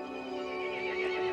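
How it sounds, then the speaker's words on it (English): A horse whinnies in the Resident Evil Village video game, one sustained, wavering neigh heard up close and fairly quiet with no talk. "The horse grew angry and summoned the other monsters."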